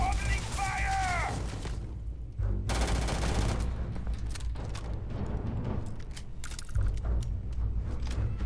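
Gunfire in the video game Starfield crackles in dense bursts over a loud game soundtrack and effects, with shouting voices mixed in.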